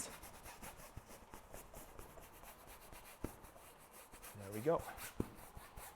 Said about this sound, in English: Let's just scrape the whole.